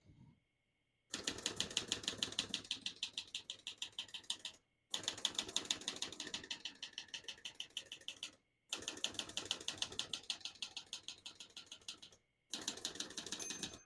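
Rapid, crisp keystrokes on a 1968 Olivetti Lettera 32 portable typewriter come in four steady bursts of several seconds each, separated by brief pauses, close and alone with no voices.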